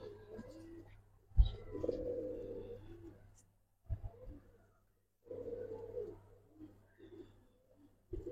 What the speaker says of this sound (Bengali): কালো গলা এক জোড়া পাখি কবুতর